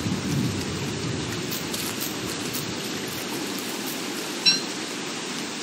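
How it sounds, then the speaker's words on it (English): Steady rain pouring in Don't Starve Together, a constant broadband hiss with a low rumble of thunder rolling beneath it and a brief sharp crack near the end. "My dude, it's raining."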